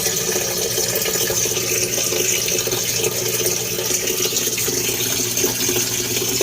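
Water runs steadily from a tap or hose while plants are watered, a continuous broadband splashing rush that holds an even level throughout, with no voices.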